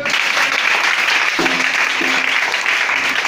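Church congregation applauding during a service, a steady dense wash of clapping throughout with faint voices and a low hum beneath.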